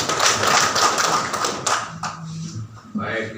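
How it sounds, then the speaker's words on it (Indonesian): Audience at a regional government press conference in Malaka, Indonesia, clapping together in a dense burst of applause that thins out over a few seconds, with brief voices at the end. "Kita berikan aplaus yang meriah."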